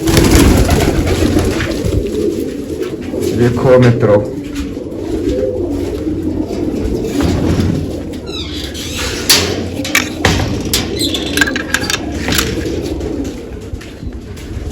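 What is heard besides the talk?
pigeons cooing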